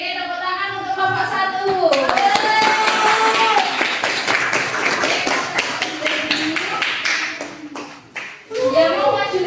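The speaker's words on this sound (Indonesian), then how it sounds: "Tepuk tangan buat kelompok 1." Classroom applause for a student group, many hands clapping densely for several seconds, fading near the end, with some speech before and after.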